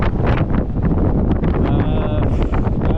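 Strong wind roars and buffets the microphone in heavy, uneven gusts, with a brief faint whistling tone partway through.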